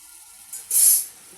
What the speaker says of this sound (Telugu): ఇప్పుడు నీళ్ళు పోసేసుకున్నాం.